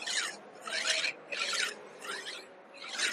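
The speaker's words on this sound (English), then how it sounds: "This is called as a cross filing." A hand file cross filing a workpiece held in place, five loud close rasping strokes in a steady back-and-forth rhythm with brief gaps between them.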